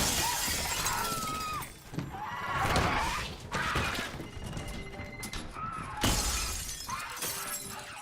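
Window glass shatters in a film scene, loud crashing bursts mixed with dense, chaotic sound effects and a horse-like whinny.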